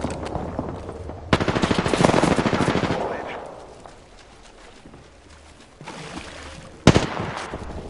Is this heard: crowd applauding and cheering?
no